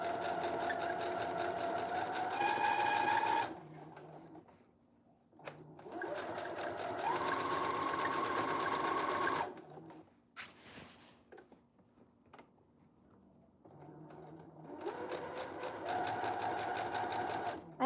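A sewing machine stitches wedding gown fabric in three fast, rattling bursts of several seconds each, with quiet pauses between them and faint handling sounds in the gaps.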